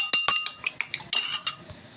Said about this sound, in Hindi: और इसको हम अच्छे तरीके से फेंट लेंगे।